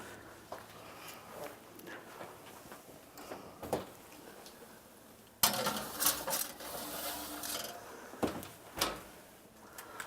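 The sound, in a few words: oven door closing as dish goes in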